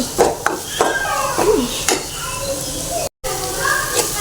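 Onions are stirred and sautéed in a pan, with repeated clinks and scrapes of a spoon against metal and a soft sizzle, while voices talk in the background throughout.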